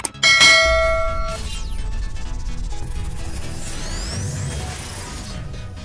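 A bright notification bell chimes once near the start of a Vietnamese mobile game channel's outro, ringing out and decaying within about a second, followed by swooshing transition effects and steady background music.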